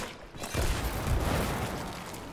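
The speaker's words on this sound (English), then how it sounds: "We survived a giant explosion." A giant explosion in the video game It Takes Two erupts as a heavy rumbling blast with crackling debris, loud and sustained for a couple of seconds.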